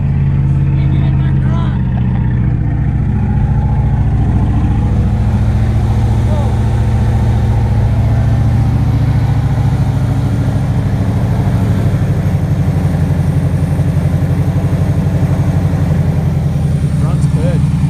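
A Chevy K1500 pickup truck engine idles steadily with a deep, rumbling exhaust, loud and close, holding the same low throb throughout.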